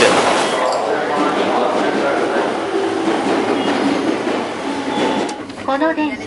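A Tokyo Yamanote Line train rumbles along steadily with a constant interior roar, wheels clattering and a faint squeal near the end.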